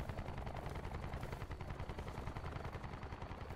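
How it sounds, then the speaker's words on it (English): Rapid automatic gunfire rattles continuously at low volume in a Call of Duty: Black Ops 4 Blackout match, a dense burst of shots with no talking. "There's gunfire coming from the left."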